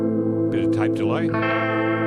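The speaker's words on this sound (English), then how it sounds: "Tape delay." An electric guitar with higher-output single-coil pickups plays through a Vox AV30 amp with a 10-inch speaker and tape delay, a sustained chord under sliding, repeating notes that smear into echoes.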